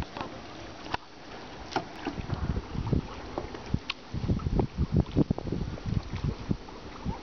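Two children row a small rowboat together on open water, with oar strokes and splashes recurring in an uneven rhythm close to the microphone, under steady wind noise and occasional faint voices.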